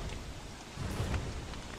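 Rain pours down in the video game Don't Starve Together, a continuous dense hiss with a low rumbling undertone and no voices.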